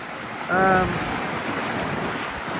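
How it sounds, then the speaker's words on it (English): A sailboat with reefed main and genoa running fast downwind at 8 to 10 knots through big seas in 25 to 30 knot winds; steady roaring wind and rushing water throughout, with a brief tonal whistle early on. "We're doing 8 to 10 knots in 25 to 30 knots of wind."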